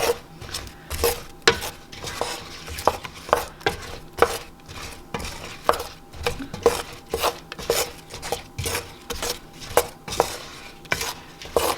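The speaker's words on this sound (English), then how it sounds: "what the stirring process does is it allows it to cool quicker while you're stirring it" Spoon stirring and scraping buttermilk praline candy mixture in a pot as it cools, a steady rhythm of repeated scrapes and clinks, close and clear with no voices.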